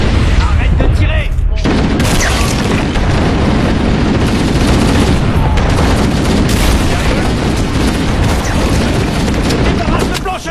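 Gunfire in the Halo: The Master Chief Collection mission Contamination, with loud, dense bursts of automatic fire and booming explosions running almost continuously, thick and close, with a brief lull near the start.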